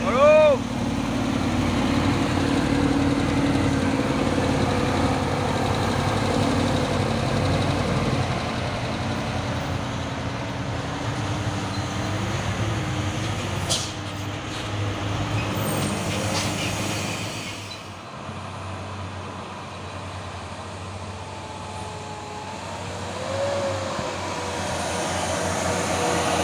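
A brown Fuso truck followed by an Isuzu ELF grinds up the Bukit Kodok hill climb, a continuous low engine rumble that is loud at first and then eases off before swelling again.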